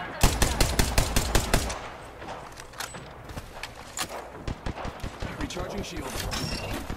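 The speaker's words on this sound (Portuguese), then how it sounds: "Eu não acerto tiro com essa arma." Rapid automatic gunfire from a weapon in Apex Legends opens with a dense burst, then continues as scattered, uneven shots, with a player talking over parts of it.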